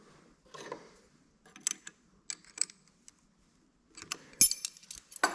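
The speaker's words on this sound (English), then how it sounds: "we'll grab a wrench, tighten that down" Quiet metallic clicks and clinks of a wrench tightening a part down on a cultivator engine, in short irregular bursts with pauses between.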